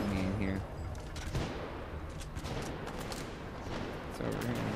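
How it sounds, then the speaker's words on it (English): Enemy gunfire in the shooter video game Titanfall 2, a burst of shots and fire from the game's combat at mid distance, with someone speaking over parts of it. "I wasn't expecting him to shoot me in here."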